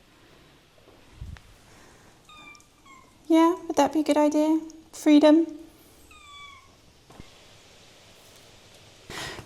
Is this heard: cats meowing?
yes